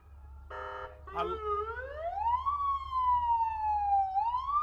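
A fire truck siren sounds during an outdoor parade, with a short burst followed by a rising and falling wail that holds steady at moderate distance over a low background rumble.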